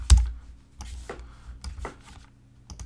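A few scattered computer keyboard keystrokes while renaming a drive in Final Cut Pro X, sparse close clicks separated by quiet gaps over a low hum.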